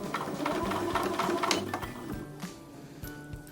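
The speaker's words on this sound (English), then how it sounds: "now I'm going to sew over to the next line" A sewing machine stitches lines across a quilt block in steady, close, rapid bursts, with short pauses where the fabric is pivoted. No one speaks.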